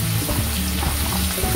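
Potatoes and beans fry in a pan for Bengali shukto, giving a steady, dense sizzle that stays close and continuous, with no voices.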